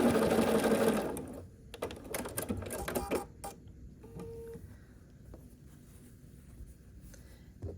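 A sewing machine piecing an Ohio star quilt block runs in a loud, fast burst for about a second, then gives scattered short stitching runs and clicks before falling quiet.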